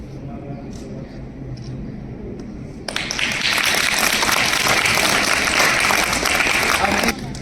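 An audience at a school event applauds, a dense, steady burst of clapping that starts abruptly partway through and runs for about four seconds before cutting off.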